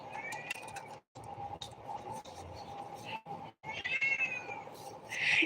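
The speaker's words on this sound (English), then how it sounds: "My cat meowing in the distance." A cat meows somewhere in the distance of a quiet room, a few faint drawn-out cries over low background noise, getting a little louder toward the end.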